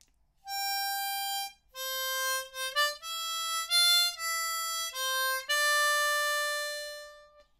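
Harmonica plays part B2 of the Game of Thrones theme, a sequence of clear sustained blow and draw notes with short melodic turns, bright and close, without any voices.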